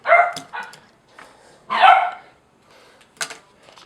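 Dogs bark indoors in short, sharp bursts with a few yips between them, fairly close, and quieter gaps where they settle for a moment.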